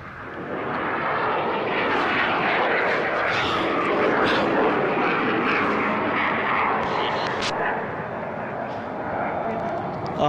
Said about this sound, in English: Just gathering speed, going down the runway. You see rotation about 165, and we're airborne